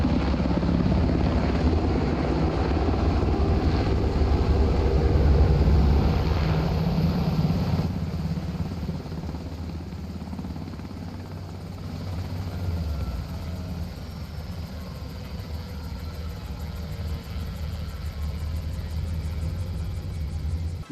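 A helicopter in a zombie series makes a loud, steady low rotor rumble and engine drone, near and continuous throughout, with no talk over it.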